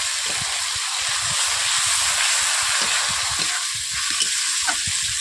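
Onions with ginger and garlic paste fry hard in a pan, a loud, steady sizzle and hiss with faint stirring scrapes underneath. The sound is close and continuous, and no voices are heard.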